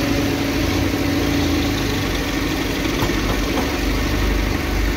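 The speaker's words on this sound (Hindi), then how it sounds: "ट्रैक्टर लोड होकर निकल गया है।" A loaded tractor's diesel engine drones steadily near a JCB 3DX backhoe loading mud, a loud, constant low throb with a slight rattle and no clear change in pitch.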